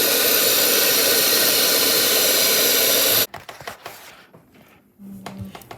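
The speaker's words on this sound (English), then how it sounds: "Now it is time to mix. We need to do it at medium speed," An electric mixer beats batter at medium speed with a loud, steady whirring drone for about three seconds, then cuts off abruptly, leaving quieter clatter and a short low hum.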